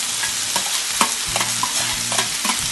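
Snow peas, green chili and scallions stir-fried in a pan, with a loud close sizzle and repeated rhythmic scrapes of the spatula against the metal.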